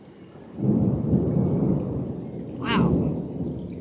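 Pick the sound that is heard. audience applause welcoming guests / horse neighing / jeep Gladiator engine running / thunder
thunder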